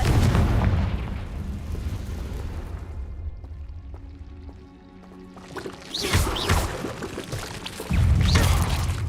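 Confringo fire spell blasts in Hogwarts Legacy: a heavy booming burst at the start, a quieter lull, then two more loud explosive bursts close together near the end.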